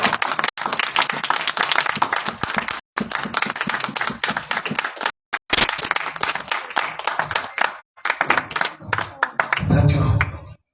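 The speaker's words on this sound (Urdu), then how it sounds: "زوردار تالیوں" A congregation at a church service claps in bursts of brisk, crowded applause with short pauses between them, ending with a voice speaking.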